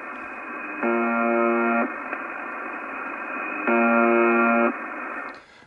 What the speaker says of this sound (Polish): Włączyliśmy częstotliwość 4625, rosyjska stacja numeryczna i sprawdzamy właśnie jak to w ogóle słychać.